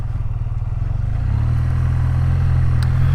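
A 2025 BMW R12G/S motorcycle ridden on the road, its engine pulsing in a low throb that smooths into a steadier, higher drone as it picks up speed, close and loud throughout.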